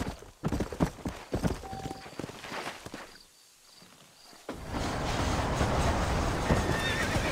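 A horse ridden along a trail in the Red Dead Redemption video game gives off uneven hoof clip-clops and a whinny, followed after a brief quiet gap by a louder, steady rushing din.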